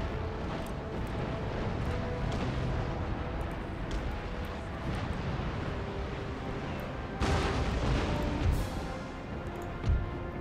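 A ship explodes during a large naval fleet battle in the game Empire: Total War, a dense low rumble of cannon fire and blasts throughout, with a louder burst near the end.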